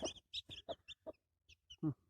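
Newly hatched chicks peep in short, high-pitched bursts, a quick cluster of calls, a brief lull, then a few more close by.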